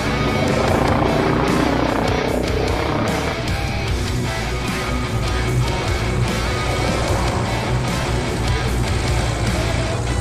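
A helicopter flies aerobatic manoeuvres, its rotor and engine roar loud, steady and close throughout with no voices over it.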